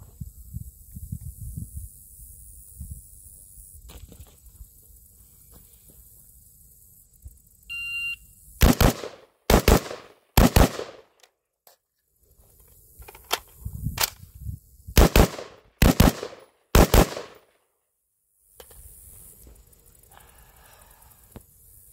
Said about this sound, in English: So 12 shots, 6, reload 6 on 2 different targets.